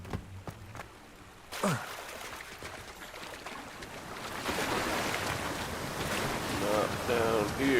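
Rushing water of a waterfall in the video game Hogwarts Legacy, a steady broad roar that swells louder partway through, with brief game effects and a faint voice over it.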